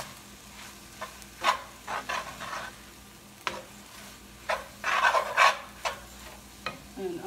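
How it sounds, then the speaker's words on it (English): Seeni sambol, an onion relish, is stirred in a pan with spoon scrapes coming in irregular bursts over a soft, steady sizzle, close and fairly quiet. "Give it a good stir."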